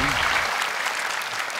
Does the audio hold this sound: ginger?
no